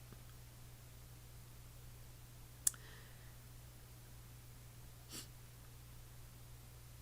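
A single sharp computer mouse click in a quiet room with a steady low electrical hum, followed a couple of seconds later by a fainter soft tap, no voices.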